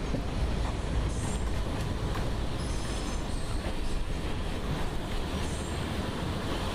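A train crossing on the approach to busy Howrah station on South Eastern Railway, heard from aboard the Digha–Howrah Super AC Express as a loud, continuous rumble of wheels with faint metallic squeals, steady throughout.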